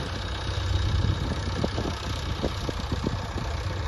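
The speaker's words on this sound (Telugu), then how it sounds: "ఈ విధంగా లోడింగ్ చేస్తారు జేసీబీతో ట్రాక్టర్ లోపలికి" A JCB loader's diesel engine rumbles steadily up close as it loads a tractor at a lightweight brick-making site, with scattered knocks and clatter over the drone.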